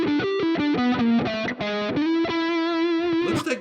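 A distorted electric guitar plays a bluesy lick with passing tones, a quick run of separate picked notes followed by a sustained, slightly bent note, loud and alone with no talking.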